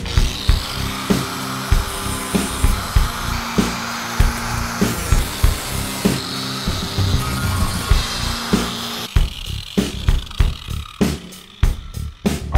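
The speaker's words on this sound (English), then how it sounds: "I'm gonna go through and run the grinder through here in order to clean all that up" An angle grinder smooths welded sheet metal on a 1965 Mustang radiator core support, loud and close, in repeated bursts of grinding with short spin-downs, the passes turning choppier and more clipped toward the end.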